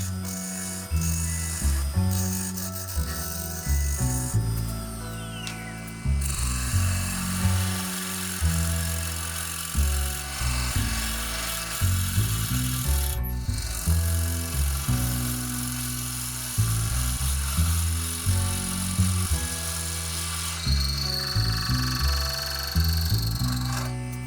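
A 1.5-inch spade bit bores out the centre of a wooden piece being turned on a lathe, giving a loud, rough grinding whirr that rises and falls in repeated short pushes, close and alone.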